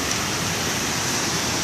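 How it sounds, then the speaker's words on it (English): Powerful waterfall, swollen far beyond its usual small stream, roaring as a steady, loud broadband rush that fills the whole moment without a break. "that waterfall is definitely not that powerful usually, so very cool."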